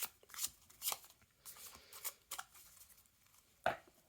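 Cards riffle and snap in several quick, crisp bursts, close up and soft, with brief pauses between shuffles.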